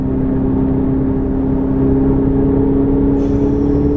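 A race car engine at Silverstone circuit hums with a steady, loud mid-pitched whir, holding constant before a brief high hiss near the end, no talking.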